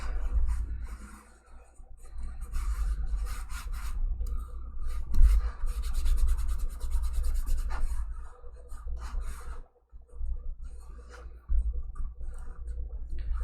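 Wax is rubbed by hand onto a charger plate craft, a steady close rasping rub with brief pauses and a short silent break near the end, no talking.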